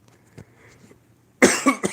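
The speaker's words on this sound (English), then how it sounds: "Got a little cough there." A single sharp cough lands close to the microphone near the end, followed by a quick second burst, after a stretch of near silence during a live sports Q&A stream.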